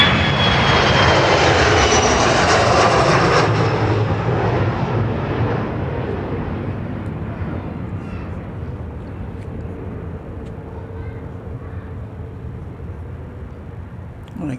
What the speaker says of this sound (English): This is 751, Boeing 737 going in position